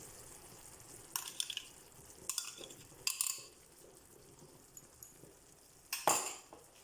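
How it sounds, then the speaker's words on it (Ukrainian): A spoon stirs chanterelle mushrooms with homemade sour cream in a frying pan, a few faint scraping clinks at irregular intervals over a soft, quiet simmer. "Перемішуємо до однорідності"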